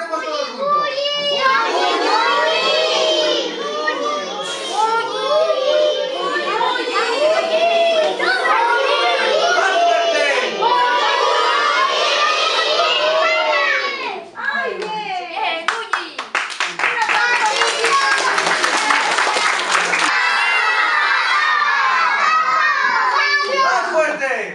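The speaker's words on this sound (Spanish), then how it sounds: "Gritemos todos juntos." Children at a school black-light theatre show shout together, loud overlapping young voices with bursts of clapping, a brief dip near the midpoint, then a dense stretch of rapid rhythmic hand clapping under continued yelling.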